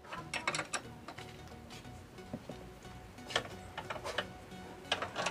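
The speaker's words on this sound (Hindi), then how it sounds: "इसको 19 नंबर की रिंग पाने से खोल लेंगे।" Close metallic ratcheting and clicking as a 19 mm ring spanner loosens a motorbike axle nut, a few quick clicking bursts separated by short pauses, faint and alone.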